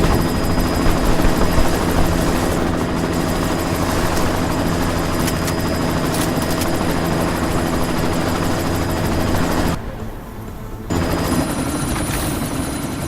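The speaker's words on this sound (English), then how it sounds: "You've got to stop that chopper." Helicopter in the video game Deus Ex Mankind Divided, a loud, continuous heavy rotor and engine roar that briefly dips about two-thirds through before resuming.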